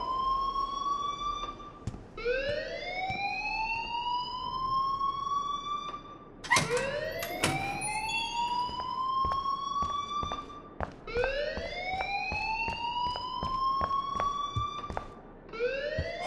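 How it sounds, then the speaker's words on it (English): A fire alarm rings in the game Life Is Strange, a loud electronic siren repeating rising whoops with short gaps and a brief sharp burst near the middle. "please turn off that alarm since that's your"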